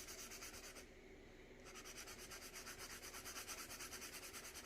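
Derwent Coloursoft colored pencil scratching across paper in steady back-and-forth strokes, a close, soft rasping texture with a brief pause partway through.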